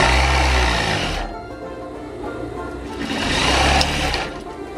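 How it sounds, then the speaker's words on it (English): A sewing machine stitches up the side of a folded towel in two loud, steady bursts of motor whir, with a quieter pause between them. "take your towel widthwise, and I'm going to sew up the side."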